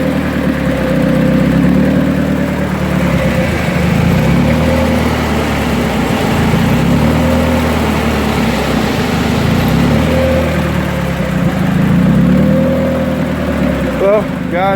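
A turbocharged Hyundai Tiburon engine with a newly fitted Mishimoto radiator runs steadily throughout, a continuous low droning hum heard from close by, with some faint background noise and no spoken words.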